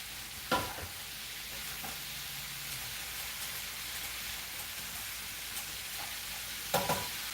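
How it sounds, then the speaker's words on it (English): Chunky sautéed vegetables sizzle steadily in a hot pan, a continuous close frying hiss with two louder scraping bursts as they are stirred around. "with these thicker vegetables, you know, you can get everything kind of stirred around real quick"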